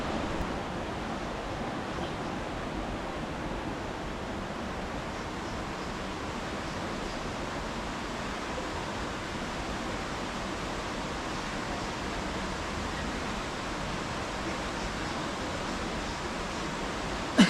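Steady broadband rush of a hidden waterfall in the Blue Mountains, New South Wales, heard constant and fairly distant for the full length, with no voices.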